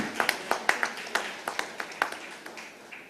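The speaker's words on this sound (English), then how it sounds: "May I please have a round of applause for Mr. Shyam Benegal, please" Scattered audience applause welcomes film director Shyam Benegal at a panel on stardom, a dozen or so distinct claps in loose rhythm, moderately close and fading out without voices.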